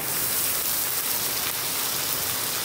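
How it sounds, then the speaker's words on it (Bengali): Onion frying in hot oil, a dense, even, hissing sizzle that stays loud and steady throughout with no voices. "পেঁয়াজটাকে একটু সুন্দর ভেজে নেব।"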